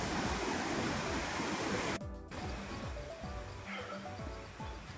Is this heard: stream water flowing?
yes